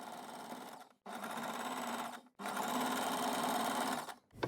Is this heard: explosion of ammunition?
no